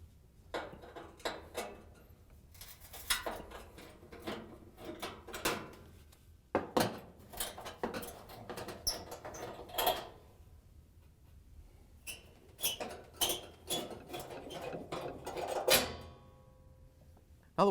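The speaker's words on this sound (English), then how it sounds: "we can reach in with our flathead screwdriver and remove the two screws that hold the oven bottom down" A flathead screwdriver removes the two screws holding down the bottom panel of a Frigidaire range oven, giving intermittent metallic scrapes, clicks and small clatters in short clusters separated by quiet gaps, close up with no talking.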